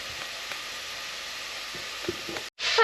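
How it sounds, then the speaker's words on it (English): Onions, carrots and celery sweating in a pan, a soft steady sizzle with faint ticks of stirring, ending in a brief louder burst. "I've got the onions, the carrots and the celery in there, and I'm just going to sweat these down"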